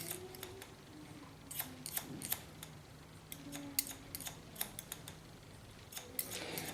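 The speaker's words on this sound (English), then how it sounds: "the same line I put in my scissor, lay the hair on the comb" Scissors snip hair laid over a comb during a haircut, giving a series of quiet, crisp, irregular close-up cuts with small clicks and no talking.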